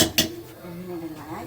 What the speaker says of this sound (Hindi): ये खोल दिया है भाभी ने कुकर।